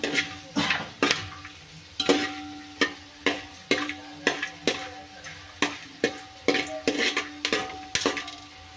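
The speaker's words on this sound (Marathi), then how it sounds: "तर त्याला छान तेलामध्ये भाजून घेऊया" Whole spices and a bay leaf roast in hot ghee while a spoon strikes and scrapes the pan in a steady, regular rhythm of sharp clinks over a faint sizzle, with no talking.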